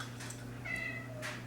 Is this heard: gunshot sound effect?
no